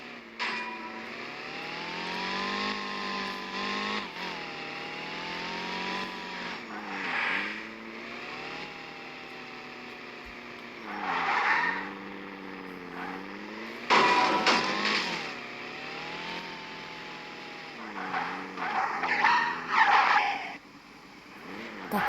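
Engine and tire skids from a car driven in the video game Car Simulator 2, a steady game engine drone rising and falling with several squealing slides, loudest near the middle and end, no talk.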